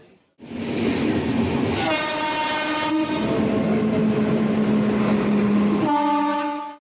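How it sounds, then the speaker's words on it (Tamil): A reserved express train pulls into a Chennai station with steady rumbling and clatter, sounding its horn in long, loud blasts close by. "சரி, நம்ம ட்ரெயின் வந்தாச்சு."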